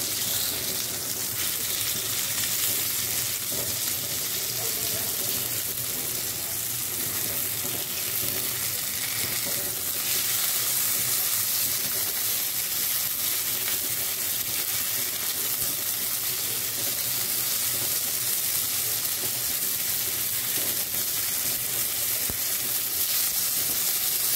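Bombil (Bombay duck) fish fry in oil in a pan with a dense, steady sizzle and crackle that stays loud and even throughout, no talking.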